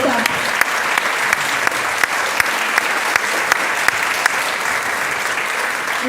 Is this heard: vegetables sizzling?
no